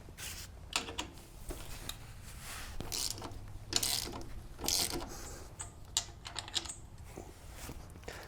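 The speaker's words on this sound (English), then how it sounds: "So we're going to take out the OEM screw first." A ratchet wrench backs out the OEM screw above a motorcycle kickstand while fitting Outback Motortek lower crash bars, giving soft, intermittent clicking and mechanical rattles at close range, with short bursts and pauses.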